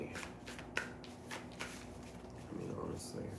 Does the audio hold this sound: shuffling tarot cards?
yes